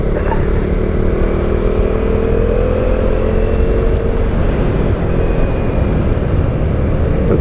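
A KTM Duke 390 motorcycle is ridden on a gravel road, its engine droning loud and steady at close range with wind rush and rough, crunchy road noise underneath and a slight rise in pitch partway through.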